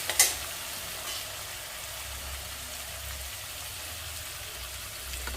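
Okra pieces dropped into a pan of cooked-down tomato fry with a steady, soft sizzle and crackle throughout, quiet and close, with a brief clatter at the start and no talking.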